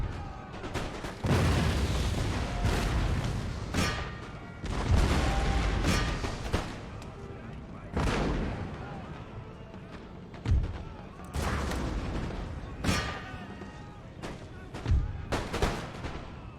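Cannon and musket fire across an Empire: Total War battlefield, with repeated heavy booms and crackling volleys overlapping into a near-continuous roar, punctuated by sharper loud blasts.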